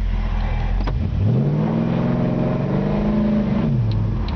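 A 1964 Ford Galaxie launches hard with brief wheelspin, its V8 engine revving up in a loud, rising roar that holds steady for a few seconds before easing off, heard close and alone.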